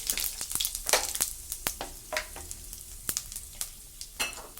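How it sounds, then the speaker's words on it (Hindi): Whole spices sizzle in hot oil in a kadai while being stirred, with a steady frying hiss broken by sharp scraping clicks at an irregular rhythm, close up and with no talk. "अब इसमें अपने सभी खड़े मसाले डालेंगे और इनको थोड़ा चला लेंगे।"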